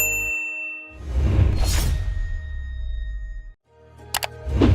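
A notification bell sound effect: a bright metallic ding rings out near the end after a whooshing transition, loud and clean with no talking.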